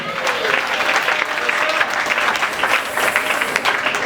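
A church congregation at a Sunday service breaks into steady, loud applause for Jesus, filling the room continuously.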